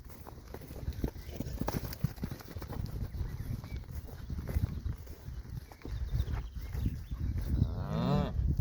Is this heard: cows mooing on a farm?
yes